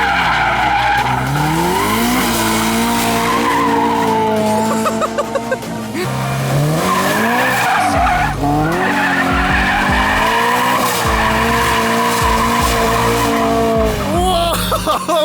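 A car drifting on a public street, tires skidding and squealing over a loud revving engine, sustained and close with brief dips, filling the whole stretch.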